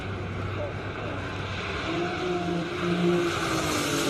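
Turbo Porsche race car climbing a Cape Town hill climb course: a sustained engine roar with shifting tonal whines that swell toward the end, heard partly under commentary.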